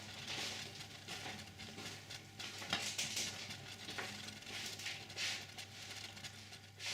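Pumpkin soup simmering and cooking down in a pot, a soft, steady bubbling sizzle with faint stirring, fairly quiet and without talk.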